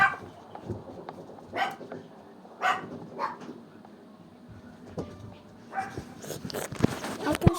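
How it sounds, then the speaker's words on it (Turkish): A dog barks in short, scattered bursts with quiet gaps between them, some barks close and sharp, others fainter, over a low background hum. "Köpek köpek."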